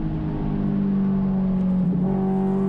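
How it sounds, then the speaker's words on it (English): A race car engine holds a steady droning note during a heel-toe downshift on a track, then dips and rises in pitch as the revs are blipped, heard close and continuous without talk. "rev the engine as I engage the clutch and rev the engine through neutral, and then engage the clutch again and go down to 3rd"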